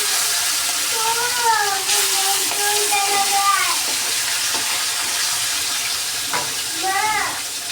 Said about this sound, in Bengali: এখন এই যে কড়াইতে তেল বসিয়ে দিয়েছি, এক এক করে মাছগুলোকে ভেজে নেব।